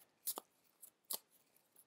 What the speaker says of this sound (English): really awkward shuffling here